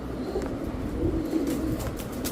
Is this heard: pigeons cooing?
yes